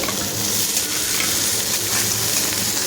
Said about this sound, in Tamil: நல்லா ஃப்ரை பண்ணி விடுங்க கோல்டன் ப்ரௌனாக வதங்கி வரணும்